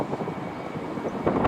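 An airplane passes over a Los Angeles construction site near Playa del Rey as a steady, broad engine rumble that swells slightly toward the end.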